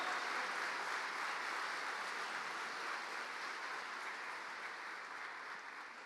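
Steady applause from a church audience during a testimony, soft and distant, holding evenly for several seconds before easing slightly.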